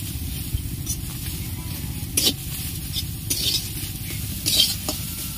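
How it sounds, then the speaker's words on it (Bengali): Onions sizzle and get stirred in a pan with no oil, a steady crackling fry with louder scraping bursts from a utensil against the pan at intervals. "পেঁয়াজগুলো একটু নরম হয়ে গেলেই হয়ে যাবে ভাজা।"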